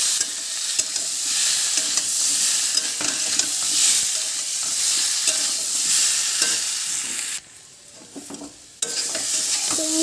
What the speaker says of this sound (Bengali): তো ভালো করে আমি কষিয়ে নিয়ে